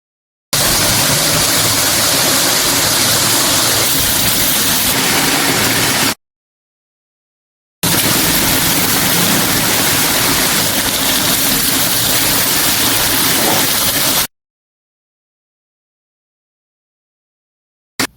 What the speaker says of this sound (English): Add fish and fry for 5 minutes while flipping over each slice with the gap of 1 minute.